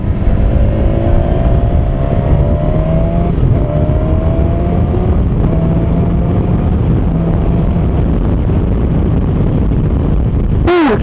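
BMW S1000XR motorcycle with a quickshifter accelerating hard, engine revving steadily with rising pitch sweeps as it shifts up through the gears under strong wind rush, close and loud throughout.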